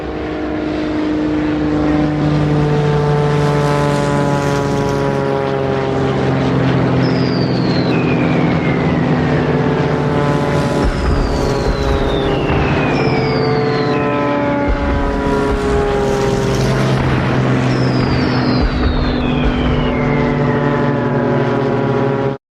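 Droning propeller bomber engines hum loudly overhead, their pitch sliding downward repeatedly as several planes pass by in succession.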